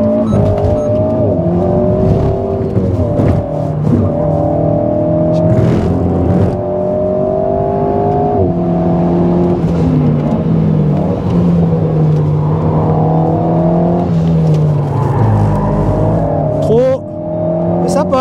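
A 2022 Alpine A110 S engine revs and climbs through gears again and again on a track, pitch rising and dropping with each shift, loud and close from inside, with occasional voices over it.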